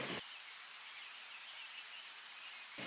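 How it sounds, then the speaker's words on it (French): Light rain falling in a forest, a soft, even hiss of drops that holds steady throughout and is fairly faint, with no voices or other distinct sounds. "je vais faire ambiance, là, par exemple, Forest Light Rain"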